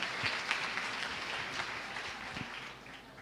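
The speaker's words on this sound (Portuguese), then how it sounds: "aplauda bem forte ao Senhor" A church congregation applauding at the close of a worship service, a fairly faint, steady wash of clapping that tapers off toward the end, with no talking.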